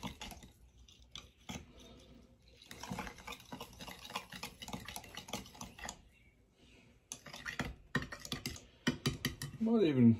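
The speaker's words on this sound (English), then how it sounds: "Give it a stir." A spoon stirs black colouring into a bait mold mixture, giving a run of light, irregular clicks and scrapes with short pauses between them. The stirring grows louder toward the end.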